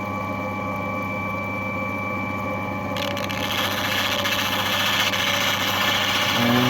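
A lapidary wheel cutting and polishing an Andamooka opal: a steady, close motor hum that turns harsher and grittier partway through as the stone meets the wheel, with no talk.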